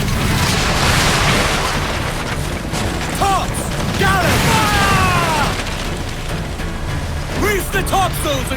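Ship cannons fire in a naval battle in the video game Assassin's Creed Black Flag, with steady booming and crackling under continuous loud ambience while crew members shout orders over the action.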